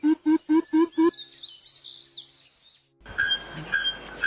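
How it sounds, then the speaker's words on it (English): A quick series of five sharp, repeated bird notes, then softer warbling chirps, and finally scattered calls over a noisy outdoor background. "Oh my god, such pretty birds"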